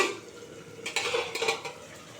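A metal lid comes off a cooking pot of katla fish curry with a few close clinks and scrapes in quick succession, against a faint background hiss.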